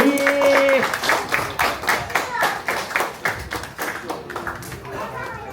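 An audience applauds in a lively burst of close clapping at a poetry book launch event, starting under a brief voice and then continuing alone as it gradually fades.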